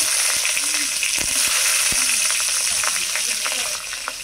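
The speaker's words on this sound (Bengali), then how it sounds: "এবারে দেখো তেলে দিয়ে দিল পাঁচফোড়ন," Panch phoron and green chilies dropped into hot oil left from frying small river fish, a steady bright sizzle with crackling pops and a few utensil taps, close by.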